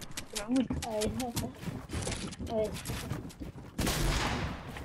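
Gunfire in the Fortnite video game rings out in sharp bursts amid excited voices of players talking and exclaiming close to the mic, ending with a louder, harsher blast.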